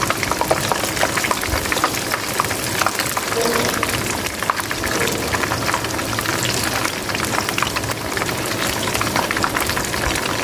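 Lahori fish pieces frying in oil in a pan after being turned, a loud, dense, steady sizzle and crackle that fills the clip, with a voice speaking over it.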